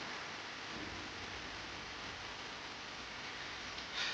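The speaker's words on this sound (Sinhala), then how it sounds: "වැස්සත් වෙනවා." Rain falling over rice fields on a rainy afternoon, a soft, even, continuous hiss of steady rainfall with no voices.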